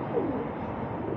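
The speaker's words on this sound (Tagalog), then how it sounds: "Mga kalapati dito, ang amo." Pigeons coo softly in a single low call that sits under a steady outdoor background hum. The sound is faint and brief, with no voices.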